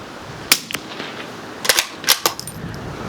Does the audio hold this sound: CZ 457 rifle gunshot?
yes